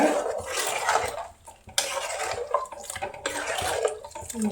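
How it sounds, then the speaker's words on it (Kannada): Water splashing and gurgling into a pot in two bursts, with a brief pause between them. "ನಂತರ ನಾನಿಲ್ಲಿ ನೀರು ಸೇರಿಸ್ತೇನೆ"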